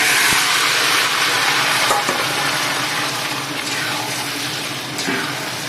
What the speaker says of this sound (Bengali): এখানে আমি শাকগুলো ঢেলে দেবো,